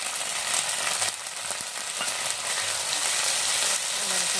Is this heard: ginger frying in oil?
yes